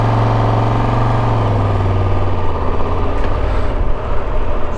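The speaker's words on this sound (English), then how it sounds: "The engine you feel that purring. I guess it's the typical Tiger Triumph purr. It's like a thumping noise." A Triumph Tiger 1200 GT Pro motorcycle engine idles steadily up close, a continuous low, even purr with a faint thumping pulse and no voices.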